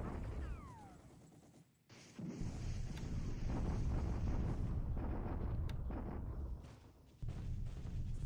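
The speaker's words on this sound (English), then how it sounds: "All right, the usual bombardment there." Naval bombardment in a War in the Pacific game: a rumbling burst of explosive blasts with a brief drop to near silence, then sustained heavy booming and crackle that cuts off abruptly and resumes, with no voices.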